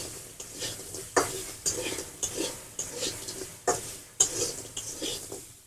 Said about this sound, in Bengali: কাঁকড়া একটু ভেজে নেওয়া হবে তেল দিয়ে। একটু হলুদ দেয়া হলো।